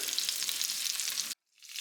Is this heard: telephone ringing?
no